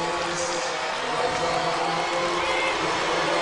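Arena crowd at an NBA All-Star game reacting as Boston Celtics players come out, a continuous distant roar with scattered cheers and a few whoops, steady in level.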